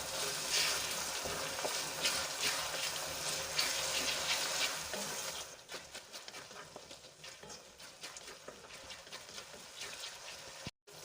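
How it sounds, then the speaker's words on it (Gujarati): Chopped tomatoes added to a pan of sautéed garlic and chilies for pav bhaji, a steady close sizzle that quiets partway through into softer bubbling and light clatter, with no voices. "એમાં કાપેલા ટમેટા ઉમેરી દઈશું અને ટમેટા સોફ્ટ થઈ જાય ત્યાં સુધી આપણે એને ચડવા દઈશું"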